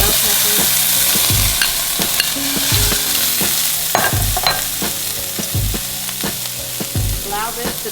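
Bell peppers sizzle steadily in a hot pan while a utensil stirs and scrapes, with repeated knocks and clatters against the pan.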